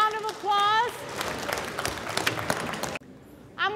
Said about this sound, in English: Let's give our precognitive folks a round of applause.